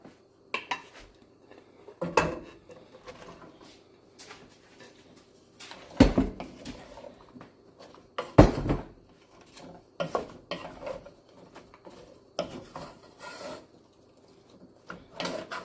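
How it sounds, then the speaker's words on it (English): Chopped carrots tipped into a pot of creamy carrot soup on the stove, with scattered clinks and clatters of a utensil against the pot and a few sharper knocks, close by and with no talking. "Now we're going to add our carrots."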